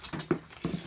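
A dog plays with a ball nearby, giving short scuffling, panting and mouthing noises in quick irregular bursts, faint and close.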